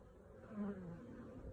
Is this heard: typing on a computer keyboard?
no